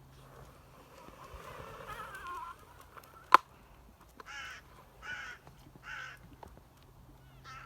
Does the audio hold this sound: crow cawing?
yes